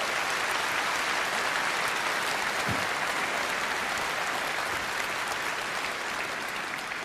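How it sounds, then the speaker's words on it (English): Sustained, dense applause fills a large hall at the Reform UK party conference in Birmingham, steady and loud throughout with no break or speech over it. "that is worth a round of applause."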